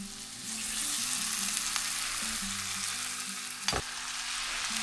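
Chicken sizzles steadily in a pan after being seasoned with garlic powder and ground white pepper, a continuous close frying hiss with a low hum underneath and one brief clatter near the end.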